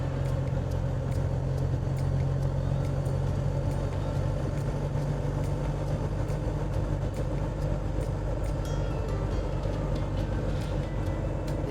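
Steady, loud engine drone and road roar from a vintage Dodge Power Wagon truck cruising at about 52 mph, a continuous low hum with rattling wind and body noise throughout.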